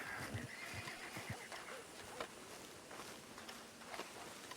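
Horses neigh and whinny in a roleplay video game, with a few hoof clip-clops and faint footsteps, fairly quiet and without speech.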